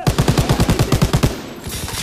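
Rapid automatic gunfire from a weapon in Call of Duty: World War 2, a steady burst of about a dozen loud, evenly spaced shots that stops, leaving faint game ambience.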